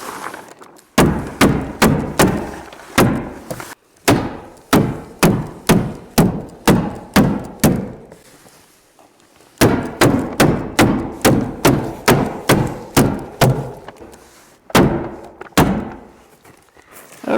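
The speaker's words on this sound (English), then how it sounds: "Just staple it." Rapid, loud staple-gun shots fasten covering material to a garage door in long rhythmic runs of sharp thuds with brief pauses between, nearly free of talk.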